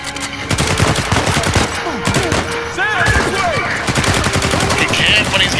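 Loud rapid gunfire fills a combat scene in the video game Uncharted 4, with dense automatic bursts and thuds layered close together. Game voices shout briefly over the shooting.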